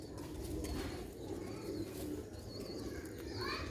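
Sialkoti black-faced pigeons coo steadily in a loft, soft throaty calls overlapping under a constant bed of background noise, with occasional chirps from other birds.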